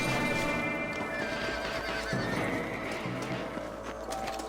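Horses in the Red Dead Redemption video game whinny and clop along with steady hoofbeats, set against a continuous outdoor game ambience and background music.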